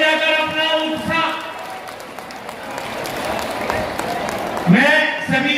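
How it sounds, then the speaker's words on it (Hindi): Crowd applauding at a political rally addressed by a chief minister, a dense wash of clapping underneath loud voices speaking over a public address system. "सभी लोग ताली बजाकर अपना उत्साह"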